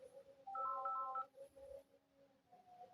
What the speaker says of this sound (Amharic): አንድ የስልክ ተነስቶብኛል። ስልክ ላንሳ።